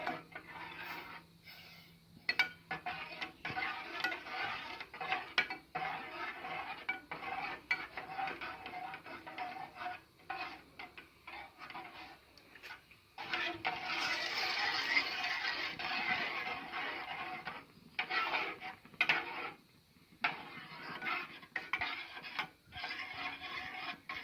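French sauce stirred in a pan, soft scraping and clinking of the utensil against metal in irregular bursts with short pauses, close and fairly quiet, no speech.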